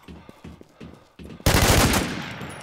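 Gunfire in the online zombie-survival game Infestation World: a few soft, spaced thumps, then a sudden loud burst of shots that rings out and slowly decays.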